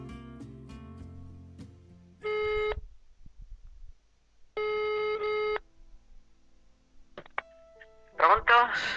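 A telephone line rings in two long, loud electronic bursts with silence between them, then a short beep before a call connects, with faint tones and a brief voice at the start and end.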